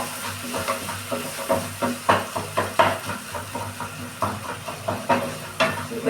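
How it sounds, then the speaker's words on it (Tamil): Ginger, garlic, onion and tomato sautéing in a pan for a Thoothukudi-style chicken gravy, a hissing fry broken by a regular rhythm of spatula knocks and scrapes about twice a second, close by. "இப்போ இஞ்சி பூண்டு சேர்ந்து வதங்கிட்டு வெங்காயம் தக்காளி வதங்கிட்டு போல் ஆயிட்டு"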